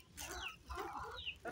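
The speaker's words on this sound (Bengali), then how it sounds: "মুরগি ডাক দাও" Free-range country hens on a home farm cluck softly and intermittently, a few faint, irregular calls at a distance with quiet background noise and no speech.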